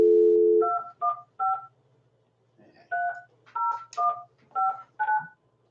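A telephone is dialed: a brief steady tone gives way to about nine crisp keypad beeps in an uneven rhythm, close and clear with no talking.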